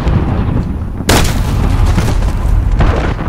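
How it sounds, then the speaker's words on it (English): A cruise missile strike in Call of Duty lands with one sudden heavy boom about a second in, followed by rumbling rolling aftershock and scattered distant blasts under the game's din. "Enemy cruise missile incoming."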